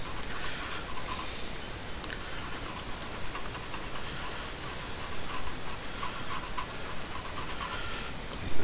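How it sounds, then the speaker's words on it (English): Paper towel dampened with isopropyl alcohol wiping and dabbing the circuit board of a PPI Power Class 1800.2 car amplifier, a steady close scratchy rubbing with rhythmic strokes, heard alone. "This other side needed a little wiping down too."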